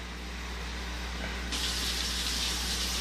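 Tap water runs into a Tupperware bowl in a home kitchen: a steady close stream that turns louder and brighter about halfway through as the flow strengthens, with no voices.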